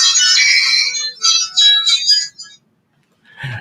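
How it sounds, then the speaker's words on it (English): A phone accidentally left on in a producer's booth plays a bright, loud melodic ringtone in short bursts of notes, stopping abruptly into silence before a brief rustle. "Extra tunage brought to you from the producer's booth because I forgot to turn off my phone."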